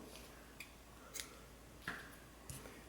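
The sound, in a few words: scissors cutting yarn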